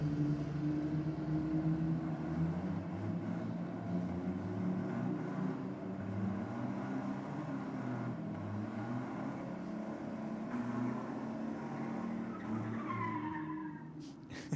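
A Ford Ranger and a Nissan Patrol 4x4 do burnouts at Sydney Dragway, a long steady roar of engines and screeching, skidding tyres heard from a distance, with no talk.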